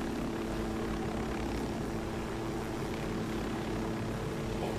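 Helicopter in Ghost Recon Wildlands, a steady low rotor and engine drone that holds throughout at an even, moderate level with no speech over it.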